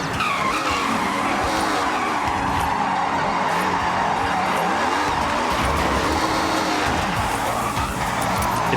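A light drift car in the Forza Horizon racing game slides through a drift track with continuous loud tire squeal over a revving engine, sustained and close with no talking.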